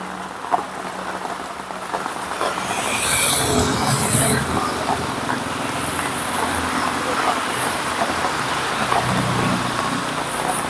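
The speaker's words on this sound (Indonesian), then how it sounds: "Dan hujannya cukup deras." Heavy rain pours steadily on a vehicle during a drive along a street past a primary school in Makassar, a dense continuous hiss with scattered drop impacts and faint road noise, no talking.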